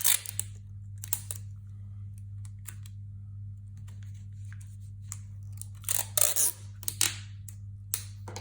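Quick bursts of tape being pulled and torn from a roll while making a scrapbook album, scattered crinkly rips over a steady low hum, close and fairly quiet.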